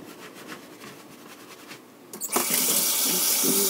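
After a soft scrubbing and rubbing at a sink, a tap opens and water runs in a loud steady rush while makeup brushes are rinsed under it, with a few gurgles and splashes.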